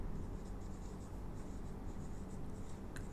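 Marker scratching on a board while a physics problem is worked out, soft continuous strokes with small taps, close and steady, no talking.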